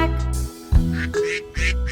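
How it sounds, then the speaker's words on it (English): A duck quacks in a nursery rhyme, three or four short nasal honks in quick succession over a bright, sustained musical backing. "Mother duck said quack, quack, quack, quack"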